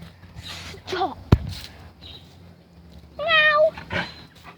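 A cat meows once, clear and close, partway through, while people talk on either side of it and a sharp knock or tap cuts in just before.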